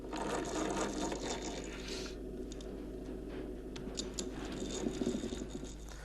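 Holes are drilled, one per bone, for a folk rattle instrument made from sheep bones, a steady whirring, grinding mechanical buzz close up with small knocks and rattles, no speech.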